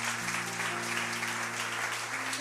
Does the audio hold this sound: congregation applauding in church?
yes